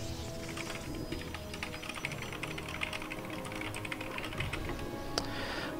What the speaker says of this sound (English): Sorry, I have to type to someone.